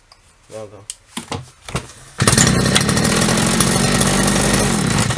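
A TRESZER TVR8 petrol brush cutter, under repair for a loosened pipe, gets several quick pull-start tugs, then its engine catches and runs loud and steady close by, buzzing continuously to the end.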